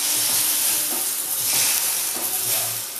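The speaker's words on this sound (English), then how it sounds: "finish off with some smoking hot oil and enjoy the sizzle" Steady loud sizzling and crackling of smoking hot oil poured over Chinese shredded potatoes, a continuous bright hiss with faint stirring underneath.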